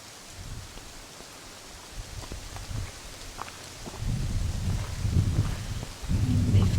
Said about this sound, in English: Even though it's raining and there's still wind